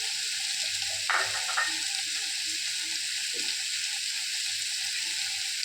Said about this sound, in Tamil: காரத்துக்கு தக்கபடியான வரமிளகாய், நல்லா வதங்கட்டும்.